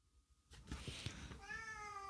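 A cat meows in a room where someone is unboxing and introducing books, a single drawn-out, harmonic cry that follows some brief handling noises and rustling.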